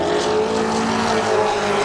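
A super modified race car screams past at maximum speed down a speedway straightaway, a loud, continuous high-revving engine roar that stays close and steady throughout.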